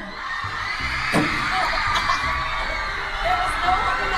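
Concert crowd of fans at a show, a dense, loud roar of screaming and cheering voices that holds steady throughout, with a voice speaking somewhere beneath it.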